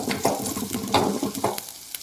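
Onions frying in an old cheenachatti pan, a steady sizzle broken by several loud scraping stirs, close up with no voices.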